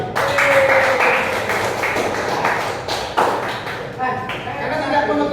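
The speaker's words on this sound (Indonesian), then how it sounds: "Silakan tepuk tangan Mas Fatir." A classroom audience applauds a student, with scattered claps and taps mixed with voices and some thumps, fairly loud and busy throughout.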